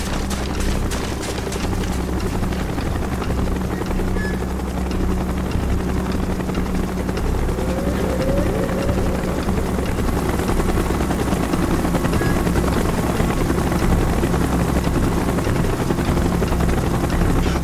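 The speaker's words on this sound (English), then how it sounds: "Chopper's inbound! Move it!" Helicopter rotor thumping steadily in the Call of Duty Black Ops video game, a loud, continuous drone that holds throughout with no speech over it.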